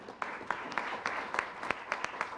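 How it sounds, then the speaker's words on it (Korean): Audience clapping at a policy debate forum in the National Assembly, fairly faint and loose, with individual claps standing out irregularly over a low room murmur. "큰 박수로 맞이해 주십시오."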